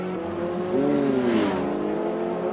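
A race car's 2-litre DOHC 16-valve inline-four engine revs hard at Cadwell Park, a loud, close buzzing tone that climbs in pitch, peaks, then settles back.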